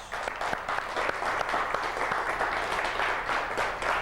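Studio audience applauding for a cooking show, a steady dense clapping from a live crowd that holds at an even level throughout.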